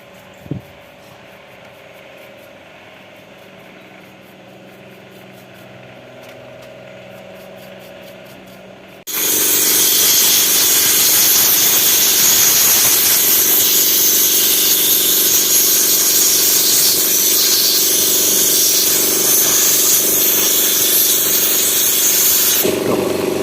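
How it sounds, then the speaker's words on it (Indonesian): Compressor air blasting onto cleaned Honda Vario 125 CVT rollers, a sudden loud continuous hiss that starts partway through after a quiet stretch and holds steady to the end. "Nanti setelah bersih baru kemudian disemprot pakai kompresor."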